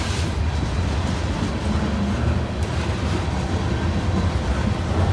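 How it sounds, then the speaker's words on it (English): Freight train with boxcars rolling past close by, a steady dense rumble of wheels and cars, continuous and loud throughout with no voices. "Got some boxcars coming up."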